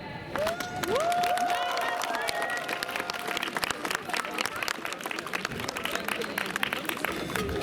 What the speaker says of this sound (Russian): Еще раз бурные аплодисменты коллективу 9 Д класса